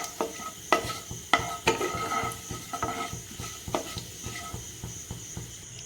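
Cumin seeds and bay leaf fry in hot oil in a kadai, giving a steady soft sizzle broken by irregular clicks and taps of stirring, close but fairly quiet, with no talk.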